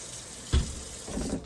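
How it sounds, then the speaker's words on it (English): Kitchen tap water running into a sink while hands are washed during cooking of fried fish and fries, with a sudden splashing gush near the start, then a steady nearby flow. "Wash my hands real quick."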